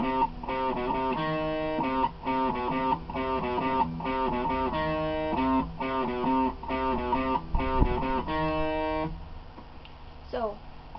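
Distorted electric guitar plays the intro riff of "Is It Day or Night?" by The Runaways as a choppy, repeated pattern of notes, ending in a brief sliding tone before fading.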